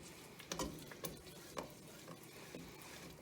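Faint stirring of homemade vanilla into a creamy peanut butter mixture in a bowl, with soft repeated scraping taps roughly every half second over a quiet background.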